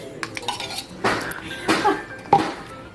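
Buko salad being stirred in a bowl with a utensil, giving several scraping clinks of spoon against the dish at irregular intervals, close up, with no talk.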